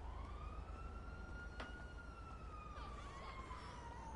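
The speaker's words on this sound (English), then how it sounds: "Sirens, people running," Police sirens wail steadily in GTA 5 street chaos, a sweeping rising-and-falling tone that stays loud and continuous throughout, with a sharp crack partway through and further siren layers joining near the end.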